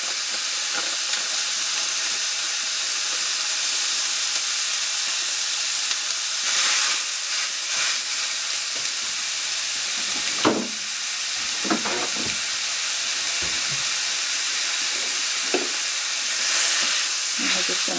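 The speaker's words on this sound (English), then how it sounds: "I'm just going to break the sausage down and let it brown." Sage sausage browning in a frying pan, giving a steady bright sizzle and hiss with a few scraping stirs and pops, close and continuous, no talking.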